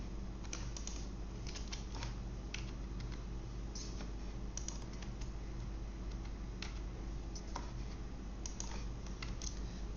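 Fast, light clicking of a computer keyboard as code is typed, steady irregular taps at close range over a faint constant hum, with no voices.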